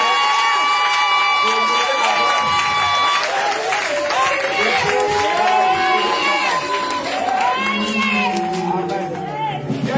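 A church congregation cheers, shouts and acclaims the Lord in loud, sustained praise, with whoops and voices filling the room over music, never letting up across the stretch.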